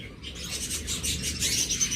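Small birds in a breeding setup chirp in a busy, overlapping chorus of quick high tweets that swell louder toward the end, with a faint low room hum beneath and no talking.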